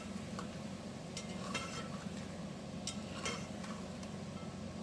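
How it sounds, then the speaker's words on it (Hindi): Ground spices with turmeric and salt stirred and roasted in a pan for beef korma, giving a steady low sizzle with soft scraping stirs throughout, close and fairly quiet. "ये मसाले इसमें शामिल कर देंगे। इसको थोड़ा सा भूनेंगे।"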